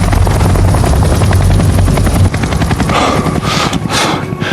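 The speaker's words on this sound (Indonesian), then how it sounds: "sebuah pesawat Korea Utara muncul dan mulai berpatroli di udara" A North Korean military aircraft, heard as a loud helicopter, patrols overhead in a war film, with a heavy throbbing rotor drone that dominates before thinning slightly and fading into a rougher whir.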